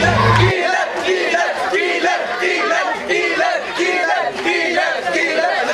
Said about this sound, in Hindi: दर्शकों की सीटियां, तालियां और किलर किलर की आवाज से पूरा सिनेमा हॉल गूंजा